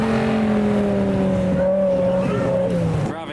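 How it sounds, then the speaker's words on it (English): BMW E60 M5 leaving a car show, its engine revving hard and holding a high note while the tyres spin, loud and close, with the pitch rising and then dropping away near the end. "This E60 M5 has been doing laps. Bit of wheel spin from him."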